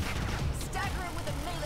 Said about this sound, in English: Start with a missile volley.